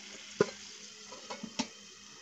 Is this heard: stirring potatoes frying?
yes